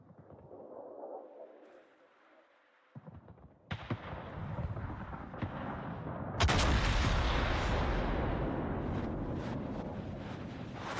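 Heavy naval gun salvos boom out in World of Warships, two big blasts rolling into sustained roaring rumble and wind-like noise, loud and close, with no talking.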